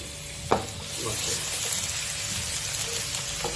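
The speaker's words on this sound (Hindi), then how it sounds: "अब इसमें बारीक किया और चॉप किया हुआ लहसुन डालेंगे, और इसको लाइट ब्राउन करेंगे" Garlic sizzles steadily in hot ghee, a soft continuous crackle with an occasional clink of a utensil stirring the pan close by.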